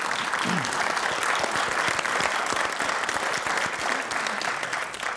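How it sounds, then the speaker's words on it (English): Studio audience on a television game show claps enthusiastically, with crisp individual hand claps in a full, close round of applause that fades slightly toward the end. "put it up on the board and give him a round of applause"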